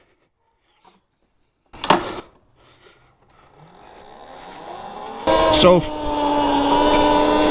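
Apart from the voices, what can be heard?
Talaria xXx electric dirt bike being ridden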